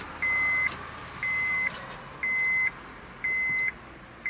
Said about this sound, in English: Let's turn the ignition on and see if the